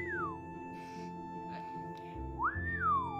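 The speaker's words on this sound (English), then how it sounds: "He actually whistled." A character in the video game Ys: Memories of Celceta gives a whistle, a falling tone followed by a rising-then-falling one, heard clearly over steady game music.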